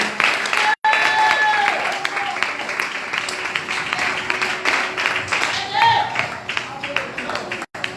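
A church congregation applauds in praise, scattered clapping rolling on for several seconds, with voices and a few sung or called tones rising through it and two abrupt dropouts.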